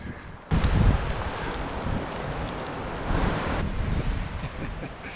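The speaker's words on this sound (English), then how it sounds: "it's just windy" Strong wind on the Pacific Crest Trail roars steadily and buffets the microphone, with gusts swelling and easing in a continuous broadband rush.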